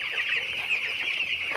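A flock of twelve-day-old chicks in a curtained shed on a winter night keeps up a dense, continuous chorus of high peeping and clucking, close and steady.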